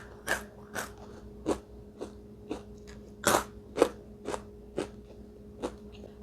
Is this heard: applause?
no